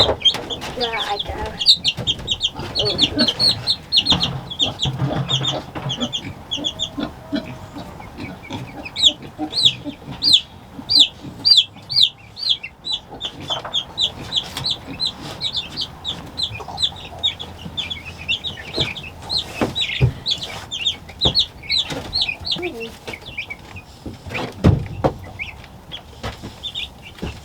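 Pullets and meat chickens cluck steadily throughout a farm pen, the busy calls layered close and continuous while people talk nearby and a voice breaks in.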